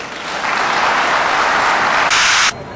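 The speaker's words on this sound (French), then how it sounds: "Je vous demande d'applaudir ça." A crowd at a political rally in Benin applauds in a sustained hiss-like wash of clapping. The sound swells and holds steady, then cuts off abruptly, and nobody speaks over it.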